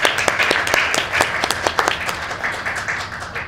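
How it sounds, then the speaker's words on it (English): Audience applause at a conference welcoming session: dense, lively clapping from a crowd, close and fairly loud, with individual claps standing out from the continuous patter. "Big round of applause."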